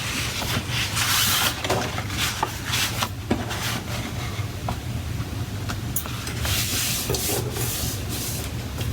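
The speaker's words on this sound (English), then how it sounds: "Now we're going to fold them into squares. So that means folding from side to side." Sheets of paper are folded side to side into squares, giving soft continuous rubbing and sliding rustles with occasional crisp creases, close up and fairly steady over a low background hum, with no talking.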